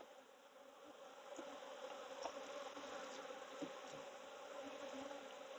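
Honey bees from a hive under swarm control, shaken loose from frames, fill the air with a dense, steady buzzing drone that stays close and continuous throughout, with a few brief louder swells.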